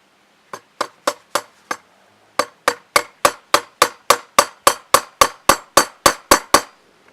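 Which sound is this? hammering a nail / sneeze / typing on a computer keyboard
hammering a nail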